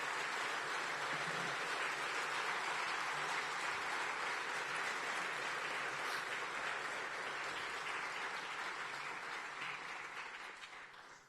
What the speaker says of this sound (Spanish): Pido un aplauso para los funcionarios de la Cancillería.